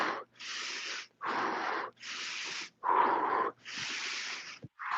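Heavy breathing during a kettlebell hinge exercise: five long, loud, close inhales and exhales in a slow, even rhythm, each lasting about a second with brief pauses between, and no talking.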